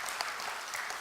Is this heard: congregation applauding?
yes